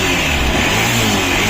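A Kawasaki Caliber motorcycle engine with a suspected piston ring problem runs steadily at idle, a close, loud and rough continuous mechanical roar with no speech.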